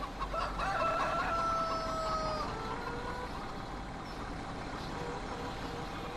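Chickens cluck and a rooster crows in a farmyard in the video game Farming Simulator 17 on PS4, with low rumbling vehicle noise underneath the faint, steady poultry sounds.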